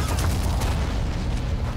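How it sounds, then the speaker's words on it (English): Anti-tank cannon fire in the Men of War game's Kasserine Pass battle, a dense, continuous rumble of booming shots and low blasts under a steady roar of combat noise. "Germans have opened up with anti-tank cannons"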